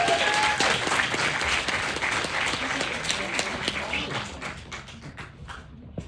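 Applause from an audience at a movie Q&A screening, many hands clapping in a dense wash that gradually fades toward the end, with a few distinct claps standing out.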